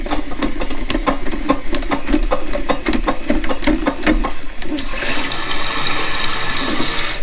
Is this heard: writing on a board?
no